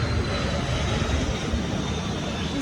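A military training aircraft passes over Taiwanese rice fields, heard from a moving train: a loud, steady, broad roar fills the whole stretch with no talking.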